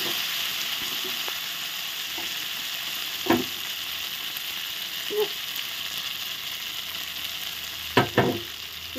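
A ground paste of chili, cumin and ginger fries in a pan with a constant, even sizzle, punctuated by a few brief stirring clicks and knocks, with no voices.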